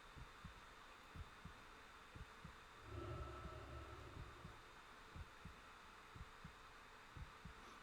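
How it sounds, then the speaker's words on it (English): Low, faint heartbeat thumps in the horror game Dead Space 2, repeating in a steady slow rhythm throughout, with a brief low rumble swelling in the middle and a thin background hum. "Oh, hey, I can hear my heartbeat."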